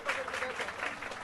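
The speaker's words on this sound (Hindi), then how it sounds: "इस बीच तालियों की गड़गड़ाहट भी सुनाई दे रही है" Teachers outside the state secretariat applaud, a steady dense wash of many hands clapping at moderate distance.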